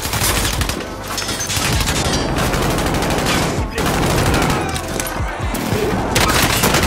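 Warzone gunfire, sustained and loud, with rapid dense volleys and sharp cracks filling the whole stretch, broken only by brief dips between bursts.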